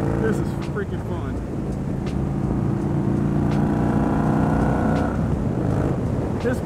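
A Victory Gunner motorcycle rumbles along with a deep, steady engine note that swells as it is ridden, while the rider talks over it in a wind-buffeted voice.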